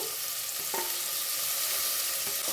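Chopped tomato, green chili and mint leaves fry in a pan with a constant loud sizzle, close up, with a couple of faint stirring taps and no voices.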